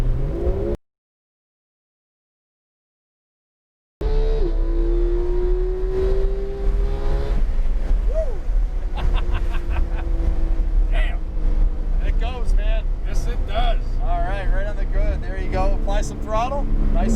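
A Porsche 911 GT3 drives around a race track, its engine droning and rising in pitch as it accelerates, with an instructor talking over it and a brief dropout near the start.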